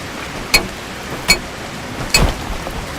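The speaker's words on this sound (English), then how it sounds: "Man, it's sketchy being up here in a storm like this." Steady rain and storm ambience in the voxel zombie-survival game Human Host, a soft hiss broken by three sharp, loud cracks spaced about a second apart, like close thunder or impacts.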